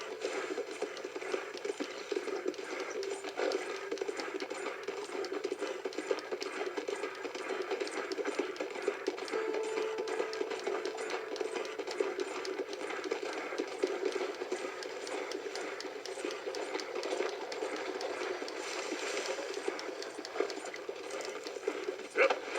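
Horse hooves pounding rapidly in a video game, a steady dense gallop running without break over a noisy, busy background.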